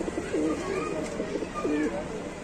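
Large pigeons coo nearby in soft, repeated throaty rolls over a faint background hum.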